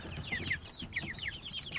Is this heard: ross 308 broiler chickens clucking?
yes